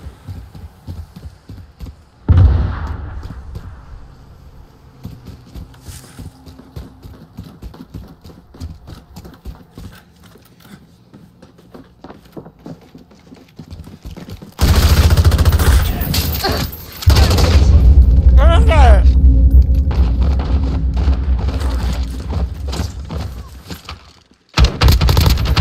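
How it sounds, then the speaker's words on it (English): Heavy machine gun fire in Modern Warfare 2022, coming as loud sustained bursts of rapid rattling shots with dense low-end thump. Quieter game sounds lead into the firing. "you got a heavy machine gun too"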